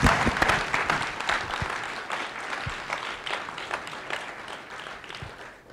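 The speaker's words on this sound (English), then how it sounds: "let's have a round of applause for our panelists" Audience applause for the panelists at a health care symposium on gun violence, a steady wash of many hands clapping that rings out loud at first and gradually thins and fades over several seconds.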